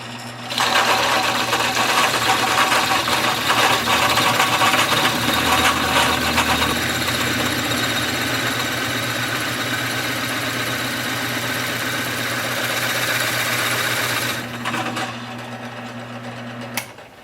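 Wood-turning lathe boring into a wood blank with drill bits, a loud steady motor hum with grinding that runs for about fourteen seconds before easing off.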